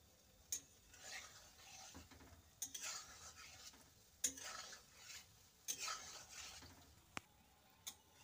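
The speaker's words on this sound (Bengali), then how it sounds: "তো এটা একটু সময় লাগবে ভাজতে। তো ভাজতে ভাজতে কিন্তু একটু শক্ত হয়ে যাবে," Langcha sweets frying in a pan of oil, a soft, quiet sizzle broken by intermittent scrapes and clinks as a utensil stirs them.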